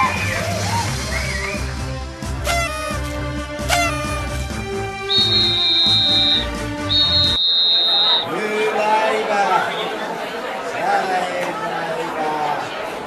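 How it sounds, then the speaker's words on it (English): Street protest march through a city centre, with crowd chatter and a dense background din under loud shrill blasts of whistles, followed by a noisy crowd with voices. "Protesters from all over the country strolled, untrolled with whistles and cries"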